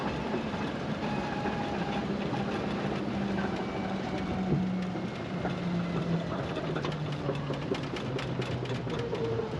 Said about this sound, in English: You get to hear all the gears working together in that transfer case and transmission.